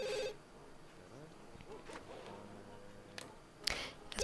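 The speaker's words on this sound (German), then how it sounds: "Es telefoniert noch mal." Telephone ringing in the video game The Sims 2, a faint ring heard at the start, followed by quiet game sounds and a few brief clicks.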